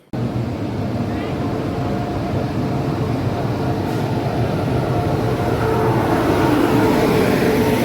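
At a station, a passenger train gives off a continuous heavy rumble that stays loud and grows slightly stronger toward the end.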